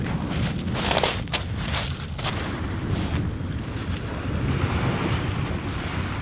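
Surf rolls onto the beach at Whitefish Point, a steady roar of waves breaking and washing ashore, mixed with gusty wind buffeting the microphone, loud and continuous with no voices.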